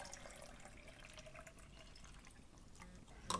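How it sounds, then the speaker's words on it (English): Liquid trickles and drips as it is poured into a measuring cup, producing a faint, uneven splashing. A sharp clink from the cup is heard at the end. "I'm going to overcompensate and pour a little more in."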